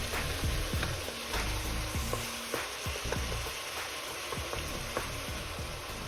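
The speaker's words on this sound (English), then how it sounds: "So we're just gonna saute that up a bit before we add in our pureed tomato and our tomato paste" Vegetables sizzle steadily in a hot pan for a tomato sauce. Crackling spits, scrapes and stirs run continuously and close up, with no voices.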